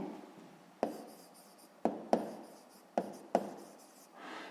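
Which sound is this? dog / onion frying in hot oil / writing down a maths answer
writing down a maths answer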